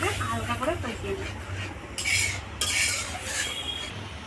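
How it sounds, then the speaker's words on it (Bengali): Mustard and poppy seed spice paste being stirred and lightly sautéed in a pan for a bhola fish curry, a spoon scraping in uneven strokes over a faint sizzle, with a brief murmur of voice early on. "এবার মশলাটাকে আমি হালকা করে কষিয়ে নেব"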